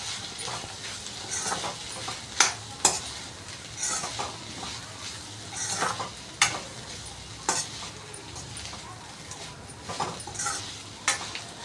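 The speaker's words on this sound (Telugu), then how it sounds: "సో ఆ మసాలాలు పొటాటోస్కి బెండకాయకి అంతా పట్టేలాగా బాగా మిక్స్ చేయాలి" Okra and potatoes being stir-fried with masala in a pan, a continuous close sizzle punctuated by loud irregular spatula scrapes and clanks against the metal, with no voices.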